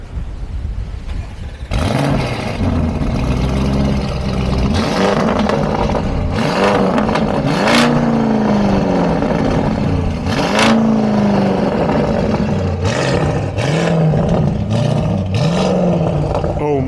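Lamborghini Urus V8 in Corsa mode roars loudly through repeated throttle blips and rising revs, building from idle into a deep, sustained howl with several surging peaks close by.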